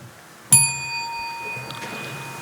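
A small bell rung once as a speaking-time signal at a public town meeting, a clear bright ding that rings on and slowly fades in a quiet room.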